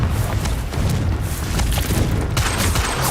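A Confringo fire spell blasting in the game Hogwarts Legacy, one loud, dense, continuous burst of booming roar with crackling rumble that holds steady throughout.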